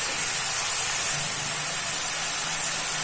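Tomato paste with salt and turmeric sautés in a pan for an egg omelette gravy, giving off a loud, steady, steamy hiss that holds unbroken throughout, with no speech.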